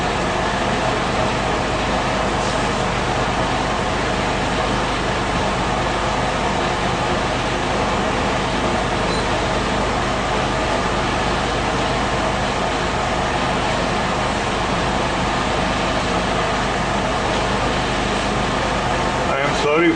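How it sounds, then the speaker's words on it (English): Constant loud drone of an electric generator running nearby at a clinic, steady broadband rumble and hum throughout with no pauses. "Sorry for the noise of the generator,"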